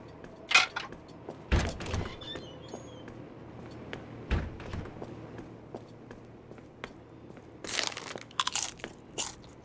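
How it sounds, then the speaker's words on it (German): Crunchy bites and chewing from the horror night-shift video game Joe's Diner come in scattered, fairly faint bursts with quiet gaps between them. "Kauen zählt offenbar nicht rein als Geräusch."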